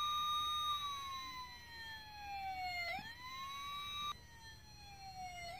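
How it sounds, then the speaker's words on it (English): A Playmobil toy ambulance siren wails in continuous falling and rising sweeps, loud and close, with a sudden jump in pitch partway through. "The ambulance are coming."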